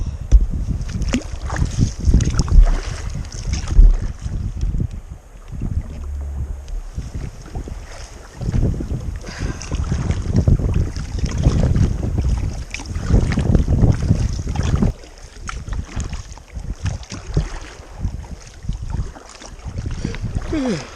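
A canoe is paddled across a windy lake in the Yukon. Rough wind buffets the microphone while water sloshes and splashes against the hull in uneven surges.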